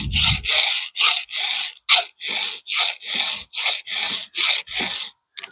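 A hand file rasps across the cutters of a heavily damaged Pico chainsaw chain in about a dozen evenly spaced, close strokes, each a bright gritty scrape separated by brief pauses; no talking.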